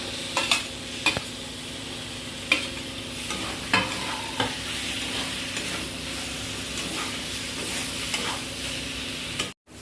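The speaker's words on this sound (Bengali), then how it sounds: "বেগুনগুলা দিয়ে একটুখানি নাড়াচাড়া করব।" Eggplant pieces fried and stirred in a pan, a steady close sizzle running throughout with periodic sharp scrapes and clinks of the spatula, then cutting off abruptly at the end.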